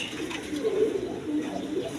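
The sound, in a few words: Bombay pigeon cooing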